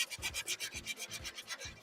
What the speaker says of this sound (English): No, I'm not sanding in the right direction